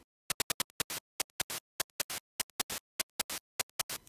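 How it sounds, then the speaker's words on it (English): The NES console sound chip's noise channel gives rhythmic bursts of hissing static, short clicks mixed with longer sputters in a drum-like pattern, fairly quiet and with nothing else heard. "The fourth voice can only produce noise."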